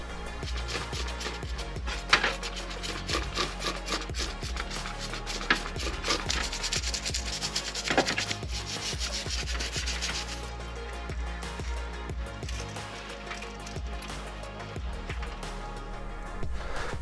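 BMW R80ST motorcycle carburettor parts being cleaned, with continuous close rubbing and scrubbing and occasional small knocks of metal parts over a long stretch.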